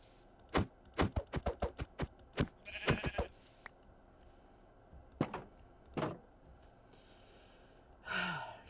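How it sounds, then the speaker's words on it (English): In an island survival video game, short percussive clicks and bumps lead into a couple of sheep bleats, ending with a breathy sigh-like bleat, all fairly quiet with gaps between sounds. "sheep."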